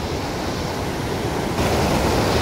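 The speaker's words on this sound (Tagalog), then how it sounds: "Malakas mga idol yung agos." Strong river current rushing steadily and loudly close by, a dense broadband roar of flowing water with wind buffeting the microphone, growing slightly louder near the end.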